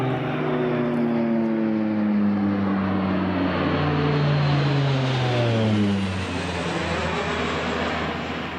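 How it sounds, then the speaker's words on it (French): Fighter jets fly overhead above an abandoned billionaire's village, a sustained loud engine roar whose pitch slowly falls as the aircraft pass, filling the whole stretch without speech. "s'ils commencent à envoyer les avions de chasse"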